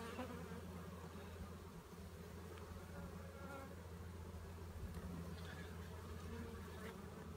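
Honey bees buzz steadily throughout a first spring inspection of a heavy brood box, a dense continuous drone with no talking.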